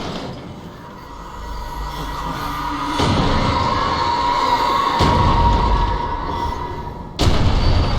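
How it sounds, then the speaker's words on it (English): In the video game Alan Wake, a train car is hurled at the player, producing a loud, continuous metallic rumble broken by several heavy crashing impacts. "Oh, I just had a train car thrown at me."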